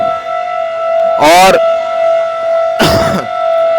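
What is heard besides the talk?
civil defense siren sounding over New Delhi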